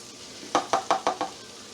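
Flour being stirred into hot bacon fat for a roux, five distinct scraping strokes in a quick even rhythm, close and clear over a faint sizzle.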